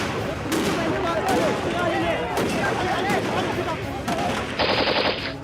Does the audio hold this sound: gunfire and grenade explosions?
yes